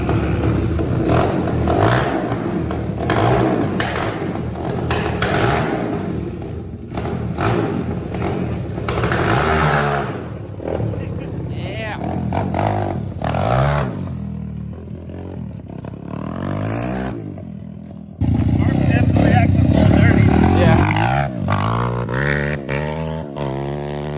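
An ATC 190 mini trike built from a Typhoon 125 with a BW80 front end and Orion 190 engine runs with the choke on, its small motor revving up and down loudly and roughly, with clattering and a stronger surge near the end.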